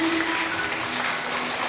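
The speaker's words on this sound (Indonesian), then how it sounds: "Beri tepuk tangan." Wedding guests applauding at a wedding blessing ceremony. A dense, continuous wash of clapping fills the short stretch at an even loudness, with a faint steady tone underneath.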